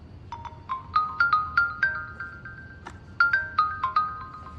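A mobile phone rings with a bright, chiming melodic ringtone, heard indoors in a drama scene. Two repeating bursts of quick ascending notes play clearly with a short pause between them, and no one speaks over the ringing.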